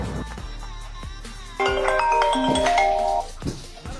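A phone ringtone plays as a bright, chiming melodic sequence of repeated tones, loud and close, lasting about two seconds within a quiet interior with low background hum.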